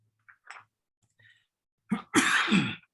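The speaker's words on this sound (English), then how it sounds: "If you guys are tired of me coughing, just think how I feel" A man coughs a few times in a harsh, close burst near the end, after a couple of faint clicks and throat noises in an otherwise quiet indoor setting.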